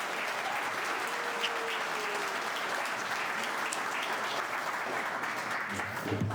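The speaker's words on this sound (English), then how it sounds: "if we can get a huge round of applause for the Akgürek couple" Steady, dense applause from a large audience at a Ramadan iftar dinner hosted by a Turkish American center, continuous and even throughout with a faint high tone drifting briefly underneath.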